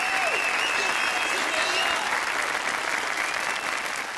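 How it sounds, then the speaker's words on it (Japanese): Steady applause from a crowd in the video game Yakuza 0, a dense wash of clapping that holds throughout and fades slightly toward the end, with a voice speaking over it. "こちらのお客様にも拍手を。"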